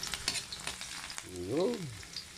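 Small amount of garlic sautéing in a pan, a steady light frying sizzle with scraping stir noises and a brief rising metallic squeak of the utensil near the end.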